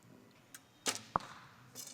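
A recurve arrow at a women's Olympic recurve archery competition releases with a quick swish and strikes the target with a sharp, close thud, followed by faint crowd noise.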